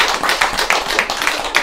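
At a sermon in a Buddhist temple, the audience claps in quick, even rhythm, about a dozen sharp, loud claps in under two seconds.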